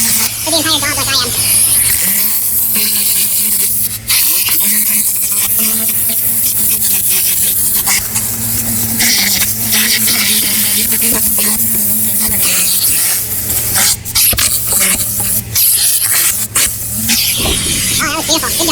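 A Tornador air-powered cleaning tool sprays continuously with a steady loud hiss and rubbing scrub during detailing of a Toyota Sienna van, with a constant compressor hum underneath and talk over it.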